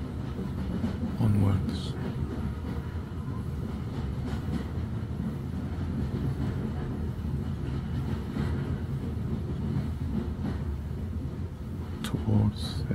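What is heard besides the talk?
steam train puffing along, Hogwarts Express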